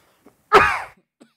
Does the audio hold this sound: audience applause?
no